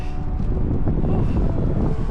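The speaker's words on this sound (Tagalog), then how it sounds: "Kaya ang lamig kasi kung maririnig niyo yung hangin, mahampas talaga" Strong, cold wind buffeting the microphone outdoors in the UK, a steady loud low rumble that lasts throughout with no speech.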